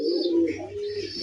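Racing pigeons coo softly and close by, a single low rolling call with a faint chirp lasting just over a second.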